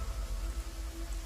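Steady night rain falls as an even, fairly faint hiss with a low rumble beneath, continuous and with no voices.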